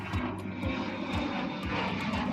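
Steady aircraft engine noise at Copenhagen Airport, a continuous loud drone with a rumbling low end and faint periodic pulsing, heard without speech.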